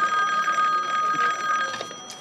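Old-fashioned telephone bell ringing in a police station office, a bright continuous electric ring, loud and close, fading slightly toward the end with no talk over it.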